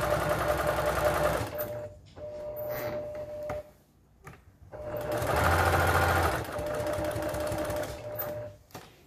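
A home sewing machine stitches a fabric 3D face mask with a polypropylene liner, running in two steady bursts with a short pause between, close and fairly loud with no talking.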